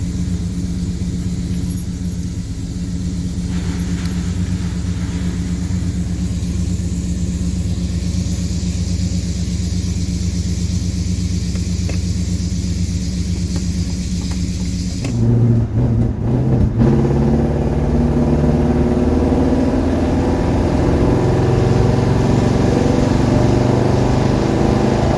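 A classic car's engine rumbles steadily from inside the cabin on a ride-along, then revs up sharply as the car accelerates and the roar swells loud and close, continuing strong to the end.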